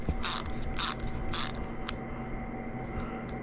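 A hose clamp is tightened on a homemade FG knot puller, giving three broad, evenly spaced ratcheting bursts followed by fainter clicks over a steady background hum.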